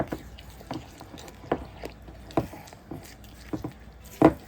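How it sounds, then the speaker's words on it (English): Eggs being whisked into hot melted butter for chewy homemade brownies, a wet rhythmic slapping and clicking of the whisk against the bowl, close and moderately loud with regular strokes. "I'm just going to start whisking that up so those eggs don't sit there too long in that hot butter"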